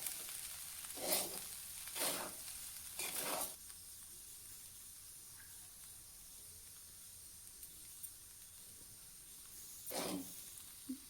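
Vegetables with biryani masala are stirred in a pan, giving a faint steady sizzle broken by four sharp scraping bursts of stirring, three close together at the start and one later, with a small clink at the end.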